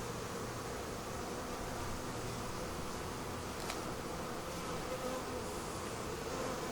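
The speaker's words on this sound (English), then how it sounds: "Maybe I had a bee just land on my veil." Honey bees swarm around a failing beehive, making a dense, continuous buzz that stays close and even throughout, with no talking.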